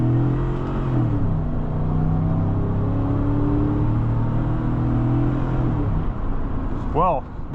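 The V8 engine of a 2013 GMC Yukon SLT drones and builds steadily as the SUV accelerates, heard from inside the cabin, with a voice briefly speaking near the end.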